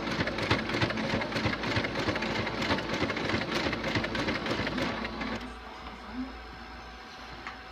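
A sewing machine stitches a cloth menstrual pad made from an upcycled baby onesie, giving a loud, close, rapid rhythmic chatter for about five seconds before stopping abruptly and leaving a quiet room hum.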